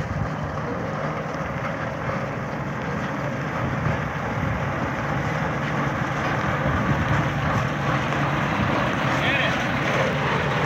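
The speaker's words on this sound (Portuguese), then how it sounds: "Caminhão aí andando em primeira marcha." Truck crawling in first gear along a rough, dusty dirt road during the Dakar 2018 rally: a steady low engine drone with wind and road rumble, and a voice speaking over it.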